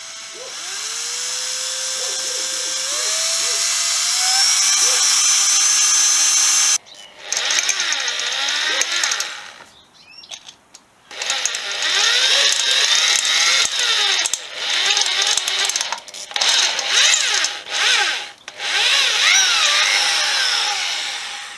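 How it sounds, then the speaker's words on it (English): A power drill runs a reverse drill bit into a broken stud on a Suzuki FZ50 motorcycle, loud and close, starting with a whining spin and then changing to rough, grinding bursts with short pauses between them. "I bought months ago some reverse drill bits, so I'm going to give it a go and see if I can drill this out."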